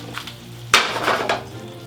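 General Tso chicken with green onions tossed in a hot pan with the heat off, giving a brief sizzle and a sharp metallic clatter of the pan, close and alone.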